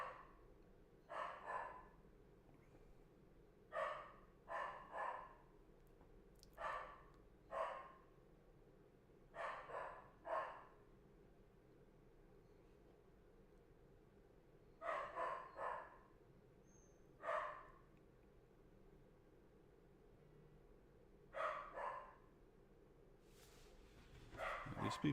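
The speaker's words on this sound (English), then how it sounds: "My dog is in there going crazy." A dog barks indoors in repeated short bursts, somewhat muffled as if from another room, over a steady low background hum.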